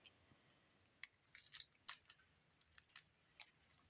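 Small scissors make a string of quiet, crisp snips while trimming a tea bag craft piece, irregular and close against a faint background hiss.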